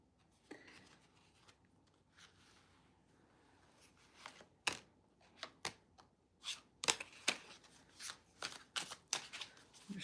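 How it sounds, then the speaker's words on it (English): Cards riffle and snap in a series of sharp, quick bursts, quiet at first and growing louder and more frequent toward the end. "Shuffle one more time, Annabelle, and we shall see."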